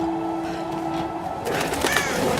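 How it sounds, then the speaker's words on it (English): Birds cooing like pigeons or doves in the Tomb Raider video game, a brief soft call over a steady ambient game background, with a flutter of movement near the end. "Them birds are gonna get me killed."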